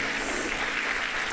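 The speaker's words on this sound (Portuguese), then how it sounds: "Aplausos, por favor." A church congregation applauds at an evening service, a steady, even wash of clapping from many hands at moderate loudness.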